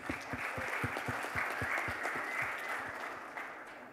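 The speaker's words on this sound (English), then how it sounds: "Can we round of applause, please?" A crowd at a Carrera India launch event in Mumbai gives a round of applause, steady dense clapping heard from a moderate distance with a few louder individual claps near the front.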